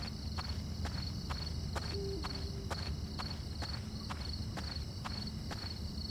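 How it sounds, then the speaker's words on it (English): Crunchy footsteps in the video game The Beginner's Guide, a steady walking rhythm of about a dozen crisp steps over a constant ambient hum with a faint high insect-like drone. "My footsteps are so crunchy."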